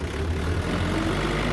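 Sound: farm tractor engine idling

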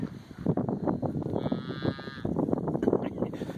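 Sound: cow mooing

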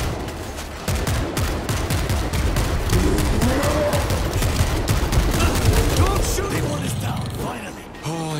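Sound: gunfire in the video game World War Z

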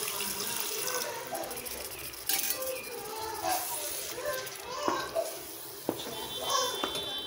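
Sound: water being poured into frying masala in a pan

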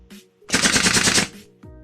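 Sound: gunfire in the video game MiniWorld Royale

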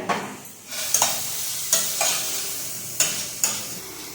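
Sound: roasting carrots in a pan

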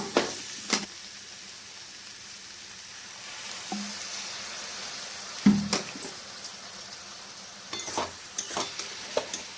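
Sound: water added to frying banana flower curry sizzling

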